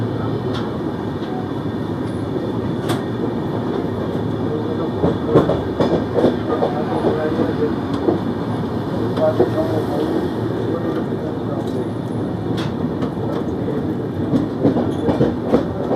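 Indian Railways 22818 superfast express rolling along the rails, a steady rumble with clickety-clack wheel beats and occasional sharp joint clicks, heard from on board and continuous throughout.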